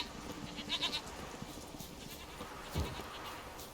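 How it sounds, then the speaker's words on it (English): Goats bleat in The Witcher 3, with a few short, faint bleats over a quiet game ambience. "Hello, goats."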